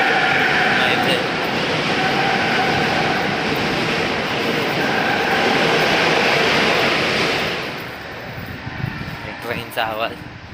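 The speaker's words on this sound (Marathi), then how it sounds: "ट्रेनचा आवाज" A train passes right beside a skywalk, a loud, sustained rumble and roar for several seconds that then fades away, followed by a person talking nearby.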